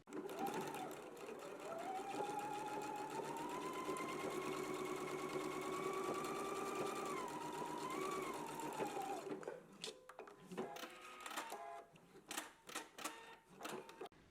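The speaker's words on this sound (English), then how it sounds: "we can go ahead and stitch at a 5/8 of an inch seam allowance" A sewing machine stitches a seam at a 5/8 inch allowance, giving a steady, quiet mechanical whir for about nine seconds, then stops and leaves a few soft clicks and handling sounds.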